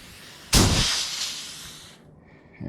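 Air pressure vented through the valve of a Benjamin Airbow, a sudden loud hiss that bursts out and tapers over about a second and a half before cutting off.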